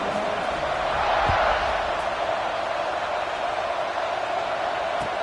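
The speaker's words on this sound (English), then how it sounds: "this crowd is buzzing after that last score" A crowd at a football stadium during an Alabama game keeps up a steady, dense roar that sounds broad and distant throughout, with no clear voices standing out.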